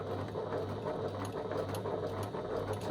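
Sewing machine running a straight seam through fabric at an eighth-inch allowance, a steady, fast mechanical whir with a low hum that continues unbroken and close by, with no talking.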